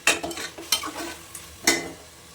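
Tomatoes fry in a pan for chicken biryani while a utensil pokes and mashes them. A few sharp scraping, squelching strokes sound close over a light sizzle, with no voices.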